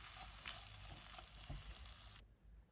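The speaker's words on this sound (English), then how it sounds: "Give that a good stir around and just let that warm through." Flaked salmon with chili flakes sizzles and crackles in a hot pan while it is stirred, a close, dense frying hiss with soft scraping that cuts off near the end, with no talking.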